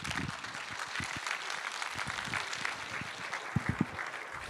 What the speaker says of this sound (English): Let's give a big hand, a round for applause please for Przemysław Szecówka.